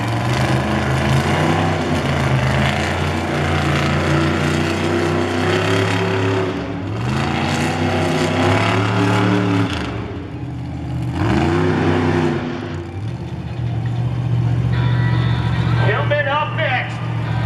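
Monster truck engine roaring and revving hard in repeated surges during a freestyle competition at All American Speedway in Roseville, loud and close, with an announcer talking over the din.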